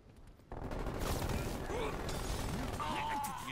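Rapid gunfire from a Krig rifle in Call of Duty, a dense burst of shots after a quiet start, with game effects and a player talking over the shooting.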